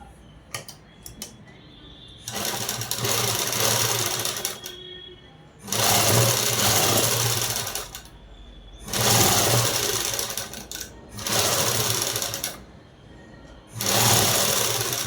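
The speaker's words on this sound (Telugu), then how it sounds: "ఇప్పుడు ఇటువైపు తిప్పేసి కుట్టు అనేది వేసేసుకోవాలి." A sewing machine stitches fabric in five distinct runs of steady mechanical whirring, each lasting a couple of seconds, separated by short pauses with small clicks and handling sounds.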